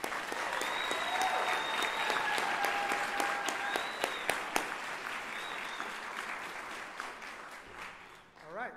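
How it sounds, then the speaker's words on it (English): A nursing pinning ceremony audience gives a round of applause for everybody. The clapping is full and sustained, with voices and a few cheers mixed in, and it thins out near the end. "how about a round of applause for everybody?"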